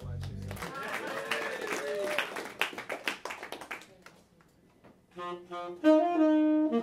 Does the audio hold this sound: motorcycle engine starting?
no